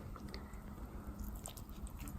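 Crispy kimchi pancake is bitten and chewed close to the microphone, with soft, quiet crunching and squishing in a short, steady run.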